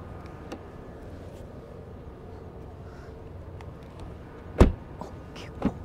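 Driver's door of an Audi e-tron S Sportback shutting with a solid thump close by, followed by a second lighter knock, over a steady low background hum.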